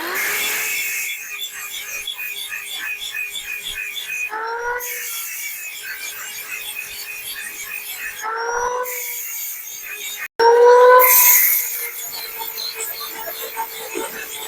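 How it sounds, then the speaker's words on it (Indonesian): A motorcycle axle from a Honda BEAT scooter is ground down with a grinder while it spins, giving a steady, close rasping whine with a ringing tone throughout, briefly interrupted twice and swelling louder near the end. "Jadi untuk langkah selanjutnya itu supaya lebih enteng dari standar 2-nya, ini asnya kita gerinda muter."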